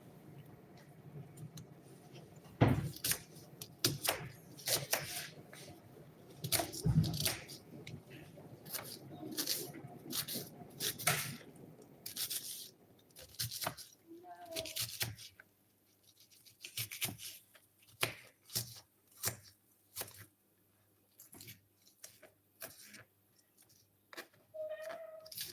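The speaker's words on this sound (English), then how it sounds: "So you go ahead and slice your onions." A knife slicing onions on a cutting board in a home kitchen, with many sharp, irregular taps spread across the stretch and a few faint pitched chirps in the quiet gaps.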